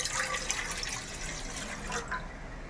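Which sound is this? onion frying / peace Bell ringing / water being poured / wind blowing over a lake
water being poured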